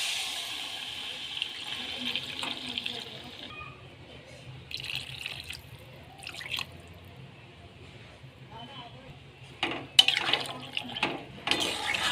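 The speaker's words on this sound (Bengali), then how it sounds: "কষা হয়ে গেছে এবার জল দিয়ে দিচ্ছি" Water poured into a pot of mutton fat and potato curry, a soft splashing and trickling that comes and goes in bursts, with brief louder clatters near the end and quiet room noise in between.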